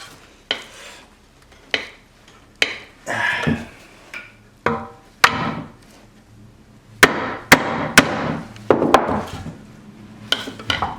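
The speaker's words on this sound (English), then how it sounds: "So you have to like hammer them out." Repeated sharp metallic hammer strikes hammering out engine valve tube seals, close and loud, coming in irregular taps and short clusters with small rattles between blows.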